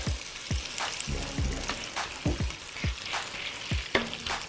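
Sausage patties sizzle and fry in a pan while being flipped, a steady close crackle broken by several sharp scraping turns and clatters of a spatula against the pan.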